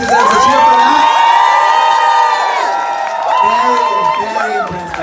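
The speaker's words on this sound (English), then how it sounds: "I think she deserves a cheer for that" A loud audience at a drag pageant cheers and whoops for a performer, a bright, sustained roar of shouting voices that swells and then tapers off slightly.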